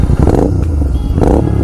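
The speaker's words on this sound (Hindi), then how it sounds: "भाई साहब, आवाज देखो इस बाइक की" A GT650 motorcycle with a modified exhaust revs loud and close, its rough, crackling engine roar swelling in two bursts over under two seconds.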